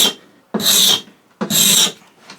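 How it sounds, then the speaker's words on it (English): A cabinet scraper drawn along the top edge of a cupboard door to remove tear-out gives two loud, dry rasping strokes, each about half a second long, separated by a short pause. "I'm going to move to a cabinet scraper."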